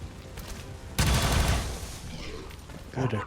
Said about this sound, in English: Now you can take 2 decent shots at him.